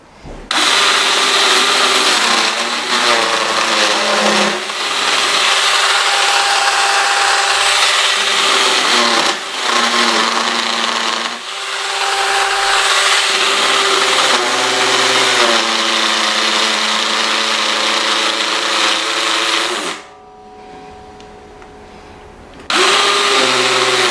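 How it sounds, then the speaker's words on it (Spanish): A Black+Decker Matrix router milling with a router bit, a loud continuous high whine with shifting pitch as it cuts, dropping briefly near the end before the motor picks back up. "Vamos a fresar ahora con esta fresa, pues valga la rebuznancia."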